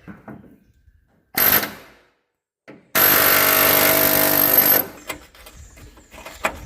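Pneumatic air hammer hammering a body bushing bolt on a Chevy Blazer: a short loud burst, then a longer sustained rapid rattling blast, followed by quieter clanks and faint sounds.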